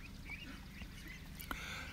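Adult ducks drilling in the mud of a stream, with soft quacks and dabbling calls scattered through an outdoor background and a sharper call near the end.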